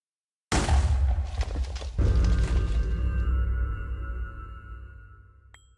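A wither explodes in Minecraft, blasting away surrounding blocks: a sudden loud boom from silence, then a second heavy blast with crumbling debris that rumbles on and slowly fades away.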